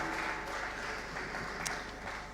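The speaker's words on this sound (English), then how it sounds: "Yes, let the applause continue." Audience applause at a high-level political event on ending tuberculosis, heard as faint, steady, distant clapping throughout with no clear talk.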